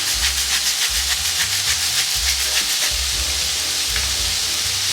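About 250 g of seasoned meat stir-frying in a pan for japchae, a steady loud sizzle and hiss with rhythmic scraping strokes from stirring, and no voices.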